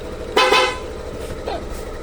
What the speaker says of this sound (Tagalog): Tapos sa horn naman, ito yung switch ng horn.